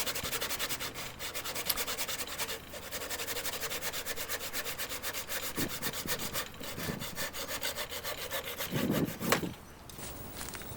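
A hand saw cuts wood for a guitar neck scarf joint: rapid, continuous rasping back-and-forth strokes at a steady rhythm, close and loud, with a brief pause midway and a few bumps near the end.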